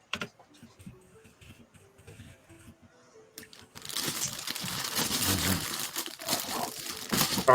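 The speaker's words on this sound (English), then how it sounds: "Sorry, I keep forgetting I have a comically loud keyboard." A comically loud computer keyboard clatters during gameplay of a medieval castle-building game. Scattered keystrokes build into a dense, continuous rush of clicking, with no talking.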